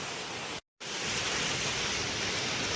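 Steady, dense monsoon rainfall in Himachal hisses loudly and evenly during an outdoor marathon, broken by a brief dropout of silence before the downpour continues.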